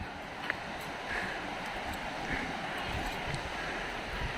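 Devarapalli waterfall near Visakhapatnam gives off a faint, even rush from some distance, steady for several seconds with a few tiny high chirps above it.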